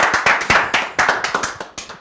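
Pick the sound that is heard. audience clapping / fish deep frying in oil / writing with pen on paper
audience clapping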